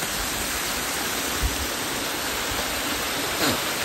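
Rushing water at Jawhar Ghat waterfall roars in a dense, constant broadband wash, loud and close, with no pauses.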